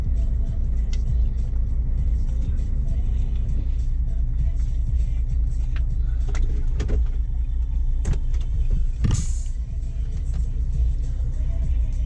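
Car engine running at a steady idle after being started and warmed up, a constant low rumble with a few brief clicks and knocks in the workshop around it.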